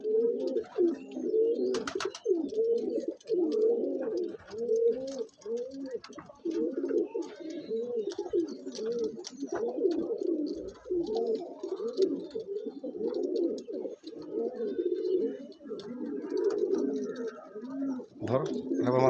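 Many pigeons at a pigeon sale in Bagnan coo in a dense, continuous chorus of low, rolling calls close by, with no pauses across the whole stretch.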